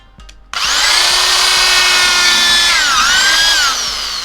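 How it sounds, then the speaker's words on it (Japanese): A power drill fitted with a cheap Daiso router bit grinds into plastic, starting abruptly and holding a loud, steady high whine with a brief dip in pitch as the bit bites harder. "ドリル持ってきました。 ドリルの先っちょにこれつけちゃいました。 ダイソーで買ったそのルーターのやつですね。"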